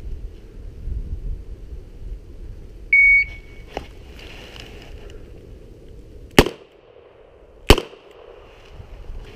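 At a 50-foot revolver qualification stage, a short electronic timer beep sounds, then two sharp, loud revolver shots crack just over a second apart against a quiet background.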